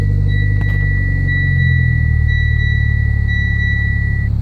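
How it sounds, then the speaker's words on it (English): A 2014 Mitsubishi Lancer Evolution MR compact performance car running close by after start-up, with a loud, steady low engine rumble settling into an even idle and a thin high whine running above it. "I'm just going ahead and start up the vehicle right now so you guys can see what it looks like."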